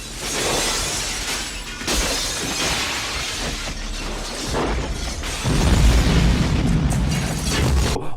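Explosions from the Jean-Claude Van Damme action film Hard Target: loud booms and shattering crashes in quick succession, building to a heavy, rumbling blast that dominates the final seconds.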